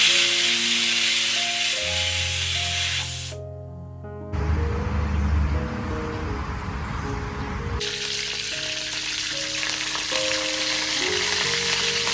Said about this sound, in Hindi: एक कढ़ाई में सबसे पहले मैंने कड़ी लीव्स डाला था, इसके बाद मैंने इसमें ज़ीरा ऐड किया।